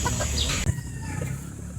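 Pullet chickens of an Escolin line of Taxman gamefowl cluck close by on a farm in a short, brief burst, with no voices.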